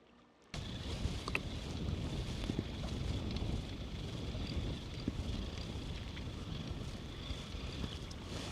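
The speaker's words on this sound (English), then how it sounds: "I think the wind and the chop have really picked up" Strong wind buffets the microphone and choppy water slaps against a fishing kayak, a loud continuous rushing roar that begins abruptly and carries on with no talking.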